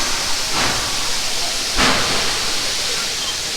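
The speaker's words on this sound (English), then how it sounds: "It's the little train, the little engine that could." A small tourist steam train at a Christmas theme park hissing steadily, a continuous broad rush with a couple of stronger puffs, distant voices faint beneath.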